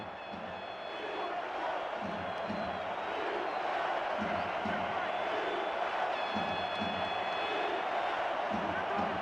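A football stadium crowd roars steadily in the distance, a sustained wash of noise with a play-by-play commentator talking over it throughout.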